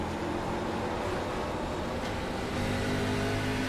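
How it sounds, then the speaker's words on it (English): A race car at Gateway accelerates at full throttle toward turn 1, giving a dense, continuous engine roar that holds loud and steady throughout and swells slightly toward the end. "Back on the power, full throttle down toward turn 1"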